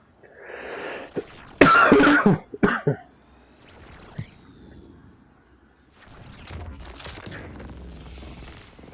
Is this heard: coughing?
yes